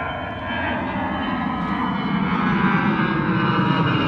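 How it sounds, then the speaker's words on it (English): A Norwegian Air Boeing 737 arriving at London Gatwick rumbles in with a steady, moderately loud engine roar that swells slightly after a quieter start, faint high whine on top, no speech. "Here we go, Norwegian Air, Boeing 737 next in the door."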